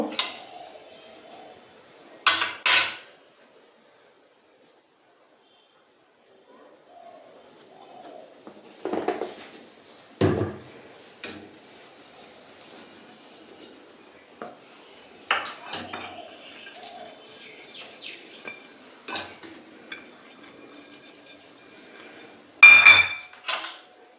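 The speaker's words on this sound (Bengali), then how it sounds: "এরপর এই তিনটে বাটি নিয়েছি আমি তিনটে বাটিতে একটু অয়েল ব্রাশ করে নেবো" Three bowls are set down and handled on a kitchen counter while being brushed with oil, giving scattered clinks and knocks at irregular intervals with quiet gaps between them.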